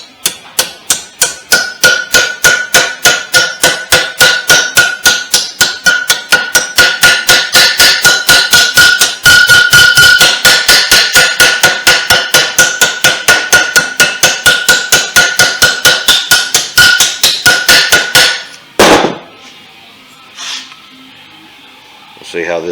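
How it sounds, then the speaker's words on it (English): A ball peen hammer strikes fender steel during rust repair on a 1956 Ford F100 fender, a long, fast, steady run of loud metallic blows lasting most of the span before stopping abruptly. "I'll just take any hammer will work,"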